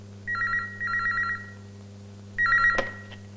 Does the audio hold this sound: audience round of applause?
no